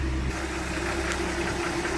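A 1967 Ford F-100 with its 240 cubic inch inline six idling smoothly, a steady low hum and light vibration heard close and alone.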